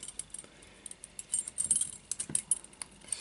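Keys jangle and clink against each other and a metal ring as they are worked off the key ring of a Sole-x 30mm padlock, with close, irregular metallic rattles and a few sharper taps.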